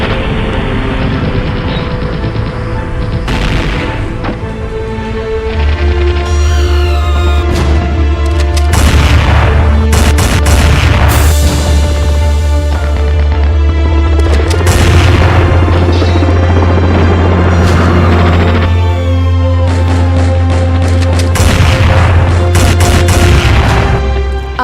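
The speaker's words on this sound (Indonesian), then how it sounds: "Desingan peluru meriuhkan suasana, ditambah lemparan granat yang bertubi-tubi." Battle reenactment at a school national festival: heavy booming explosions from repeated grenades and crackling gunfire, loud and dense throughout, laid over a sustained low drone and music, with no talk.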